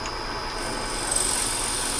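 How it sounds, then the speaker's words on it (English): Drill bit boring into wood on a lathe during woodturning, a steady rasping, rubbing grind that continues without pause and grows slightly louder midway. "drill in here. You may have to back it out a couple times depending on your drill bit"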